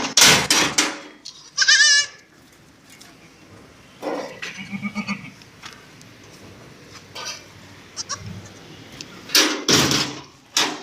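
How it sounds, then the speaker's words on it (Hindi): A goat bleats several times in short loud bursts at a livestock market, separated by quieter stretches with a few knocks and rustling nearby. "बेहतरीन दूध के अंदर माशाल्लाह बकरी है, और बकरी भी बहुत आलीशान है"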